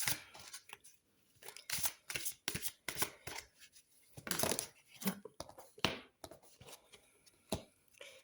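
Tarot cards are shuffled by hand close up, soft rapid riffles and slaps in irregular bursts with short pauses between them, quiet overall.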